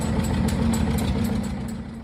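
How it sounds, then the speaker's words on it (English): Old Moline Z farm tractor engine running steadily, a loud, rhythmic low chugging idle with regular pulsing beats, close by and uninterrupted. "Moline Z, my father's second tractor."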